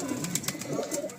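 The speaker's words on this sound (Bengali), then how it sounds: "এই সমস্ত পায়রা একবার ওয়াক অ্যারাউন্ডে আপনাদের দেখিয়ে দিচ্ছি ভিডিওর এন্ডিংয়ে" Pigeons in a loft give soft, low cooing calls, a few overlapping murmurs close by at fairly low volume in a quiet room.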